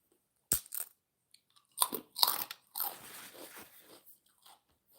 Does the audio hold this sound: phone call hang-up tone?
no